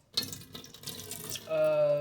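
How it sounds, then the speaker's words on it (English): Water poured into a bowl to start pastry dough, a short splashing gush that begins abruptly, then settles into a steady trickling stream, close and fairly quiet. "I pour water in it"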